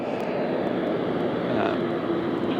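A presidential jet taxis on the tarmac at Andrews, its engines giving a loud, steady broadband roar that holds evenly throughout, with no voices heard.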